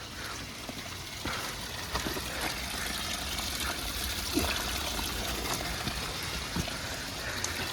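A small, fresh, cold stream of water trickles down the Pentland Hills near Bonaly in Scotland, a soft continuous burble and dribble heard close up at low volume, with faint scattered rustles.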